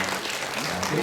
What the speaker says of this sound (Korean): 격려의 박수 이렇게 나눠주십시오.